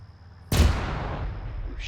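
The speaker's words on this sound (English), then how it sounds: "We had explosions up here at the front of the column" A single loud explosion hits a military column during a video game, a sharp close blast with a long rumbling decay that fades over a couple of seconds.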